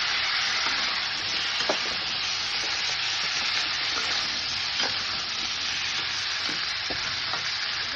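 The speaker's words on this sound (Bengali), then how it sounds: "কষিয়ে নিয়ে এবারে সজনা ডাঁটাটা আর বেগুনটা দিয়ে দিলাম, দিয়ে একটু নাড়াই।" Drumstick pieces and eggplant frying in a pan for a vegetarian curry, a loud continuous sizzle with occasional soft knocks of the spatula as the vegetables are stirred, no voices.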